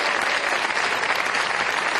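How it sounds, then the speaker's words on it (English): A large audience at a Bill & Melinda Gates Foundation event applauds Spain's Pedro Sánchez. Dense, even, continuous clapping fills the whole stretch at a steady loudness, with no voices over it. "A round of applause for him."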